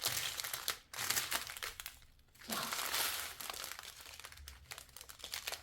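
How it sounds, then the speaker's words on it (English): The plastic packaging of a large diamond painting kit crinkles and tears close by in irregular rustling bursts, broken by short quiet gaps. "And I can just tear this very easily."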